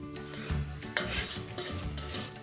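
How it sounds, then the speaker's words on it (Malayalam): A spoon stirs semolina (rava) in a pan, a steady close scraping and rustling with faint sizzling and a light clink of metal. "അപ്പം അത് ഇതിലേക്ക് ഇട്ടിട്ടൊന്ന് ഇളക്കി കൊടുക്കാം."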